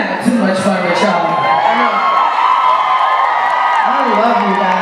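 A concert crowd at a show cheers and whoops continuously, a dense wash of voices and shouts filling the space at steady loudness throughout.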